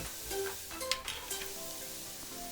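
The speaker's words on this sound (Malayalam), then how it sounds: "നേരത്തെ കാണിച്ച സ്പൈസസ് ഞാൻ ഇതിലേക്ക് ഇടുകയാണ്." Ground spices, including Kashmiri chilli powder, hit hot oil in a pan for instant cranberry pickle, giving a steady close sizzle and frying hiss with light stirring scrapes throughout, no voices.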